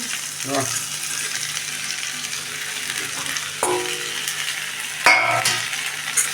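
Capsicum frying in a pan with onion, tomato and popped mustard seeds, a steady close sizzle broken by a few brief stirring scrapes and clatters, with faint water-like splashes near the end.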